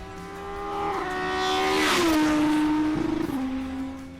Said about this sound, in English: The 5-cylinder engine is something very special when you hear it going.